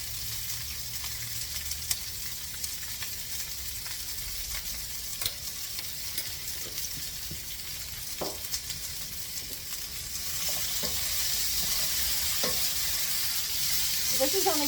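Fennel sautés in shimmering oil in a pan, a soft steady sizzle broken by occasional spatula scrapes and taps; the frying hiss swells louder toward the end, with no voices.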